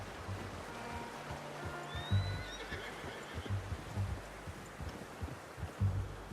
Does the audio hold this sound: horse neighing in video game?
yes